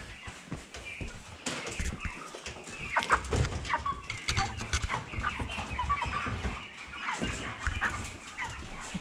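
Broiler chickens cluck and squawk close by in a busy, irregular chorus, with scuffling noises and a few sharper calls.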